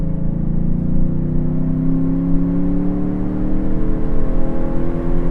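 A 400 HP Chevrolet TrailBlazer SS pulling in second gear from low revs: a loud, steady engine drone heard from inside the cabin, its pitch rising gradually as it accelerates, with no talking.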